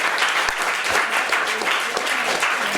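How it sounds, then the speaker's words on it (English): An audience gives a round of applause for panelists at the close of a talk, dense steady clapping filling the room, loud and continuous throughout. "a nice round of applause for our panelists"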